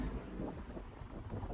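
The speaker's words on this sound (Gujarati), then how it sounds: "વાવાઝોડા જેવો પવન છે." Strong, cold, storm-like wind blows outdoors in London, buffeting the microphone as a continuous low rumble with gusty fluctuations.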